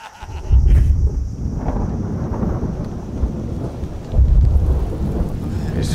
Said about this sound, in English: In the middle of the night, another storm hits.